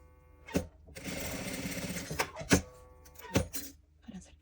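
A sewing machine stitches the seam of a stuffed toy fox in one short burst of fast whirring, framed by clicks and handling knocks, with quiet speech nearby.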